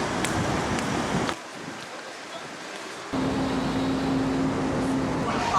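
Wind blowing outdoors where people are sitting together, a steady broadband roar that briefly drops away before it returns. It sounds close and fairly loud, with no clear speech.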